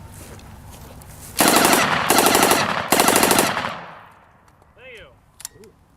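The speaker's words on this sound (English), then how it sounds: "It's a 9mm, and we will shoot this off for you." A 9mm submachine gun with a collapsible stock and box magazine fires three loud, rapid bursts at an outdoor World War II days event, the echo trailing off afterward and faint background voices following.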